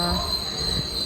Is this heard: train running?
yes